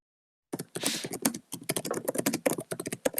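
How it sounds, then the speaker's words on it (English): Rapid, ferocious typing clatters on a computer keyboard, close and loud, in quick irregular bursts of keystrokes with a brief pause partway through and no talking. "Ferocious typing."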